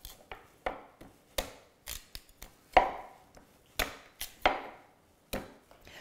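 A big knife cuts through yucca root on a cutting board, producing a dozen sharp, separate chops at an uneven pace. Each crisp knock is close and distinct, with quiet gaps between the strokes and no talking.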